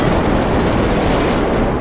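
A continuous roar of rockets exploding in Grand Theft Auto 5, a dense, loud barrage of blasts and rumbling fire merging into one unbroken wall of sound with no talking.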